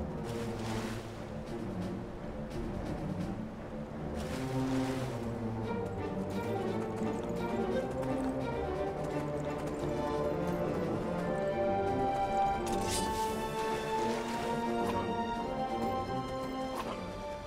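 Horse swimming through water in the Skyrim video game, a steady rhythmic clip-clop of hooves running continuously throughout with game music and ambience layered underneath.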